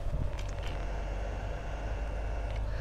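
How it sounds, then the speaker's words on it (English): A solar power inverter's cooling fan runs with a steady, faint whir and low hum, alone and unbroken, with no talking. "That's the fan in that thing."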